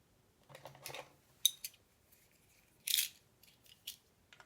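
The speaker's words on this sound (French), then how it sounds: "Et on vient la couper sur à peu près, à peine 1 millimètre." Scissors snip through the paper of an envelope, trimming barely a millimetre off the edge, giving a few short crisp cuts and rustles, close and fairly quiet, with a sharper snip near the end.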